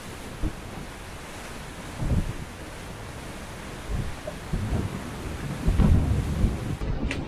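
A sailboat at sea in its first storm with a small new sail: a constant rush of wind and rain, broken by several louder gusts or wave surges that build toward the end, with no voices.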